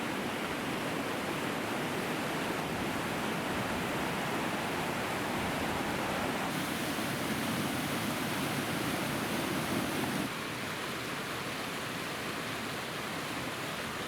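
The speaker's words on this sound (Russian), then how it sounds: "в котором вода с шумом низвергается с каменных уступов" Water cascading down stone ledges in a small canyon of the Kamenka river, a steady broadband roar that fills the whole clip, loud and continuous with a slight shift in tone partway through.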